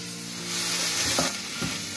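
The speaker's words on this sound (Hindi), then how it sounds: "मसाले भून चुके हैं, इसी में अब हम डालेंगे प्याज।" Onion is added to hot pan-roasted spices and frying, a loud, close, continuous sizzle with a soft stirring scrape swelling over the last second, with no voices.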